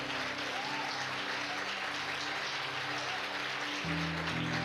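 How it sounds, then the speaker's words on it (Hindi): A congregation at a church worship service claps together for the Lord, a dense, continuous burst of applause filling the room without a break. "Come on, give a good clap for the Lord."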